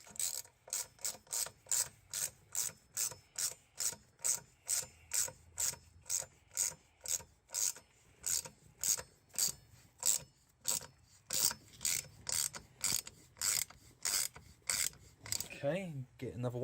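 Bolt being screwed into a 1991 Yamaha FZR 600 motorcycle wheel with a ratchet, giving a steady, close run of about thirty sharp, evenly spaced clicking strokes, with no talk.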